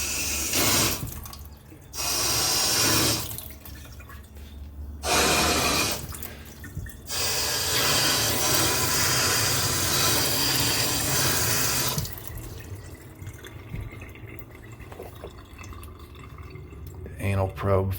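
A faucet squirts water in on-and-off bursts: loud spraying runs that stop and start several times, then a longer gush and a quieter stretch of trickling, with a person talking in between.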